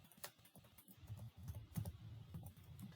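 Computer keyboard typing a web address into a browser bar, a quick run of close, light key clicks in an irregular patter, alone without talk.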